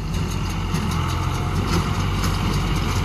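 Steady, loud drone of a tractor engine running in a wheat field, a constant low rumble that does not change and has no speech over it.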